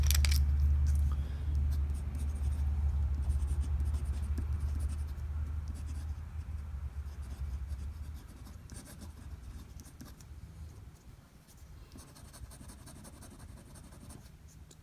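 A fountain pen scratches steadily across sturdy, smooth paper with a slight tooth, the soft close-up scribbling continuing in irregular strokes and fading slightly, with no talk.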